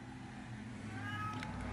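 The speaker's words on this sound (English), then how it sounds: "That's just my cat meowing." A pet cat named Texie meows once near the end, a faint drawn-out call rising over low background hum in a quiet room.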